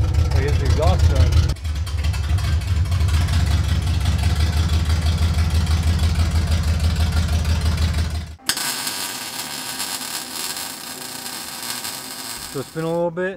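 A 1975 K10 pickup engine, freshly tuned with adjusted timing and carburetor plus new exhaust, runs steadily with a deep low rumble, then cuts to a different, brighter mechanical sound; talk is heard over parts of it.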